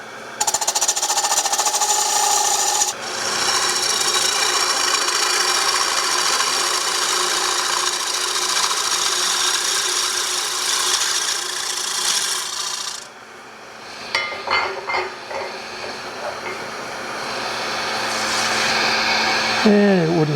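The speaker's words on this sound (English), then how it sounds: "So now this is pure faceplate work. I'm going to use a bowl gouge." A bowl gouge cuts a coopered wooden birdhouse roof held on a faceplate on a lathe turning at about 700 RPM. It makes a loud, continuous rasping chatter with brief breaks as the tool lifts, then a softer scraping cut.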